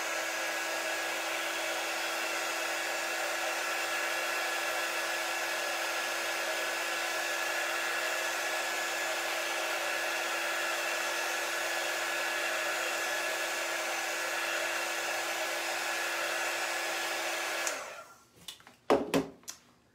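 A hair dryer blows steadily on chalk paste for about seventeen seconds, a close, even whirring roar, then cuts off and is followed by a few short knocks and clatters.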